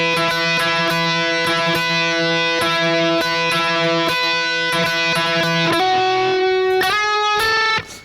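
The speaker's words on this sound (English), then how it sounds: "lead guitar on the chorus sounds like this." Distorted electric lead guitar plays a chorus part, a two-note repeating figure picked in steady rhythm, then sliding up at the end, loud and close with no voices.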